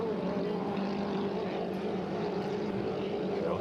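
Steady, distant engine drone from racing motorboats held at full throttle during a 2.5L class hydroplane race on water, a continuous buzzing roar that stays level throughout with no voices over it.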